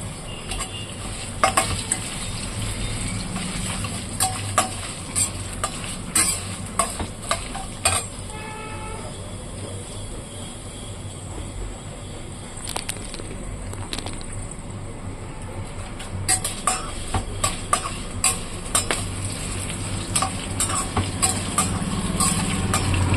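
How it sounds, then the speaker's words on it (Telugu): Dry red chillies frying in hot oil in a pan, a steady sizzle with occasional crackles and clinks of a stirring spoon against the pot, fairly quiet and close. "ఎండు మిరపకాయలు కొంచెం ఉబ్బుతాయండి ఆయిల్లో వేసిన తర్వాత కొంచెం కలర్ మారుతుంది"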